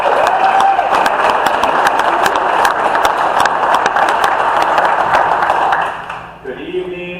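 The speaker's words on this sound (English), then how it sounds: "So let's give them a round of applause." Audience applause at a general meeting, a dense sustained wash of clapping with some cheering that fills the room for about six seconds, then fades out as the clapping dies down.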